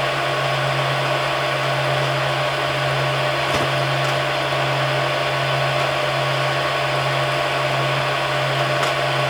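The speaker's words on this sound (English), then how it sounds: "this sound is with the printer printing, so that's at fans full blast" Loud continuous drone from a Creality Ender 3 V2 3D printer printing with fans at full blast, whirring fans and a steady hum, a few faint clicks over the constant mechanical roar.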